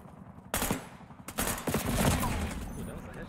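Rapid automatic gunfire in Call of Duty Black Ops 6, sharp close bursts that swell into a sustained, loud barrage of overlapping shots, with a voice talking underneath.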